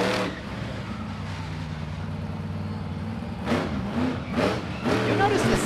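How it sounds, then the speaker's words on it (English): A monster truck at Lawrenceburg Speedway crawls over a row of parked cars, its engine droning steadily and then revving louder in bursts, with an announcer talking over it. "Mac Plecker out there walking the ballistic truck all over the track"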